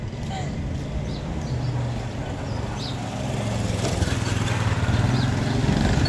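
A motorbike engine runs at a low, steady idle-like drone, growing slightly louder toward the end, with people talking over it outdoors.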